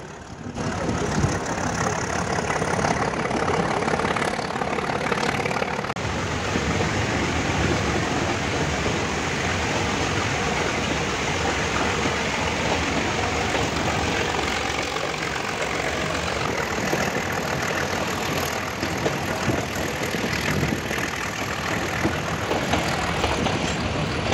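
A diesel locomotive on the Nilgiri Mountain Railway roars steadily as the train climbs through the hills beyond Coonoor, a loud, unbroken engine rumble with rail noise that holds for the whole stretch.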